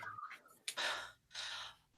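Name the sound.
player imitating a character panting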